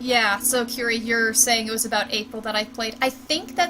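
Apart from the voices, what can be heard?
No everyday noise stands out behind the speech.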